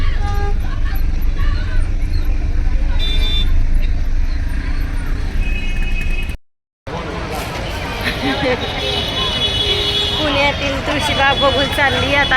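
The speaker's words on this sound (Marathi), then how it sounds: "एक गाडी मध्ये आली मध्ये आली" Busy road traffic beside the Dagdusheth Ganpati temple in Pune, with vehicles passing close and horns tooting over a constant low rumble and crowd babble, broken by a brief silent gap midway.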